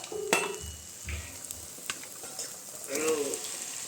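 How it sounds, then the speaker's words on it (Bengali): Dal tarka frying in a pan, soft sizzling with a few spatula knocks and stirring scrapes, fairly quiet and close, with brief background voices near the end. "তরকা হচ্ছে, তরকা"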